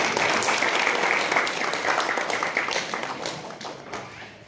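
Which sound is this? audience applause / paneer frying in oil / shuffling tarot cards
audience applause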